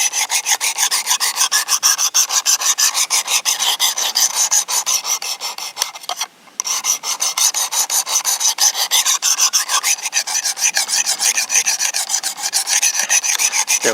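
A knife blade is drawn repeatedly across the abrasive of a Work Sharp Precision Adjust sharpener, making rapid, even rasping strokes close up, with one brief pause midway and no talking.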